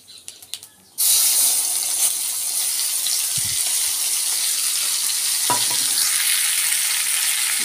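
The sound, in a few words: spice paste frying and being stirred in pan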